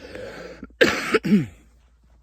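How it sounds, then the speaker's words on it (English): A person clears their throat in a short burst of rough, raspy rasps, preceded by faint background murmur and followed by near quiet. "Had to clear my throat."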